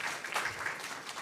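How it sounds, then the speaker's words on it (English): Audience applause at the launch of an airport art programme, Kempegowda International Airport, Bengaluru: a steady, moderately distant wash of clapping from a crowd, sustained and even throughout. "A big round of applause to Michael."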